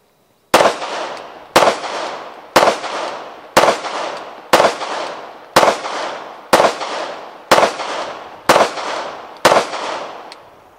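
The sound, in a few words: gunshots fired from a Glock 19 pistol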